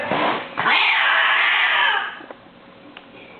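A cat lets out a loud, drawn-out caterwaul lasting over a second, preceded by a shorter yowl, then fades to quiet with a few faint clicks.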